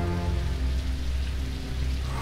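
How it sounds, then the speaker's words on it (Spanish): Rain falls steadily in a dense, even hiss with low rumbling underneath, constant and close throughout, with no voices. "el sonido de la lluvia"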